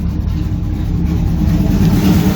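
A car engine idles steadily after a Holley 4165 carburetor rebuild, a continuous low rumble with a slight rise toward the end and no talking.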